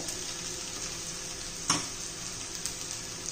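Potato and sabudana fry in oil for sabudana khichdi, making a steady, even hiss with one sharp stirring clink partway through and a couple of faint taps after it.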